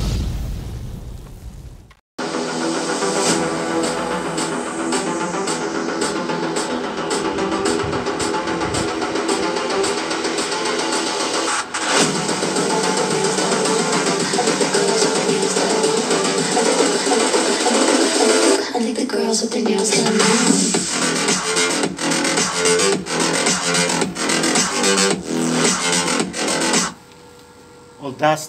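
Music played through a homemade 2.1 class AB stereo amplifier using only its two small main speaker channels, with the subwoofer off; a dense, loud, continuous mix with bright, crisp percussive hits and little deep bass.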